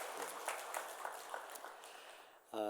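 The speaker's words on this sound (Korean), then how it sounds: "우리 격려의 박수 한번 드리도록 하겠습니다." A church congregation gives encouraging applause during a worship service, a steady wash of many hands clapping that tapers off before a voice begins speaking.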